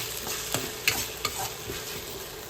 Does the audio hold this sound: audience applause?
no